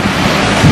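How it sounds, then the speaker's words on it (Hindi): Steady broadband roaring of strong wind buffeting the microphone, loud and continuous, with a low gusty rumble swelling near the end. "अब इस तरफ आ गया विंड"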